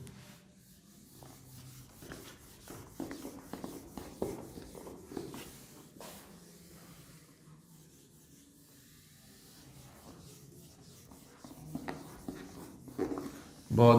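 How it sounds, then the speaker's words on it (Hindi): An eraser rubs slowly across a board to wipe off writing, making soft, irregular swishing strokes that are quiet and close, with a louder scrape at the very end. "बहुत धीरे धीरे मिटा रहा"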